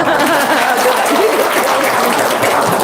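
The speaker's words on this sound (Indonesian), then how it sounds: "Tepuk tangan dong" An audience at a talk on paying off debt applauds in a brief, dense, steady wash of clapping over a murmuring room.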